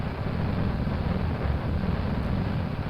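A rocket engine at full thrust in the space-flight game Kerbal Space Program gives a steady, heavy roar, loud and close, with a rumbling low end and no break or talk.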